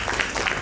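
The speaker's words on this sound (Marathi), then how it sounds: "वहिनीने टाळ्या वाजवलेल्या" A brief burst of hand clapping from a small audience after a Marathi poetry reading, short and fairly close.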